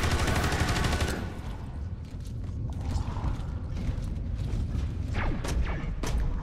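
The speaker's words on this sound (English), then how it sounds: "it's a turret" A turret in the video game Space Hulk: Deathwing fires a loud, dense burst of rapid shots that cuts off after about a second. Mechanical creaks and clanks follow against a steady game background.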